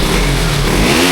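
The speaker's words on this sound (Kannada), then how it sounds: "ಅಂತೂ ಇಂತೂ ನಮ್ಮ ಬೀಸ್ಟ್ ಗಾಡಿ ಸ್ಟಾರ್ಟ್ ಆಯಿತು." A 2012 KTM 200 Duke motorcycle engine under repair, just started and revving, its loud steady roar rising and falling close by with no talk over it.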